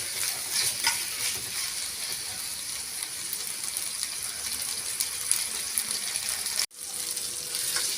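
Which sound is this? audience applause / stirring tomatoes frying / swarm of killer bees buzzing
stirring tomatoes frying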